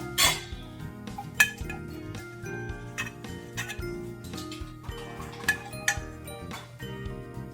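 A utensil spreads low-carb 90-second keto bread batter across a pan, with soft scraping and irregular light metallic clinks and taps, close and fairly quiet.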